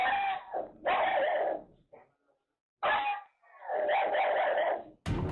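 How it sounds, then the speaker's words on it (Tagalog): Household dogs bark and howl at 3 a.m., in two long bouts of loud, close yowling and baying broken by a brief quiet gap, with a sharp burst at the very end and no talking. "nabulabog ang kanyang tulog nung bigla raw pumalulong ang kanilang mga aso"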